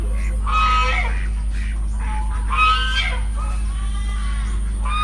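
Ducks in a park honk and quack in loud, repeated bursts close by, several birds calling over a steady low hum.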